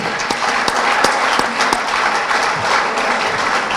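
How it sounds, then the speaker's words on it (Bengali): An audience at a seminar on football and cricket development claps loudly together in a dense, continuous burst of applause that holds steady throughout, close and filling the room. "ওদের জন্য একটা জোরে করতালি"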